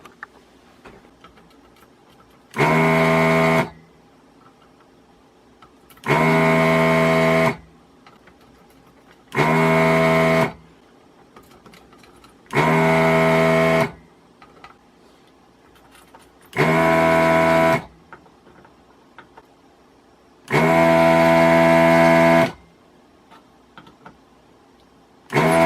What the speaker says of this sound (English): Powered up the solder sucker and see if I can't remove these without doing too much damage to the board.